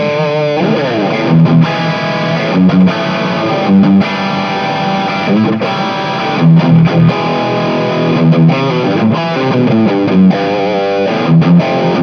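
Heavily distorted electric guitar through a Joyo UZI distortion pedal plays a sustained, saturated riff with chugging low notes and ringing chords, loud and continuous with brief rhythmic breaks.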